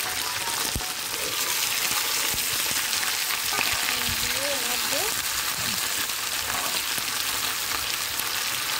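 Garlic and green chilli tempering sizzles in oil with a dense, steady, rain-like hiss, and a few scattered clicks and faint tonal noises sit underneath.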